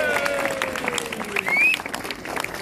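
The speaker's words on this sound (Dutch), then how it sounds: "Een heel groot applaus voor Mariet Pauwels." Audience applause at a Dutch theatre play evening, a brief burst of clapping from a crowd with a few whistles, heard under a voice speaking.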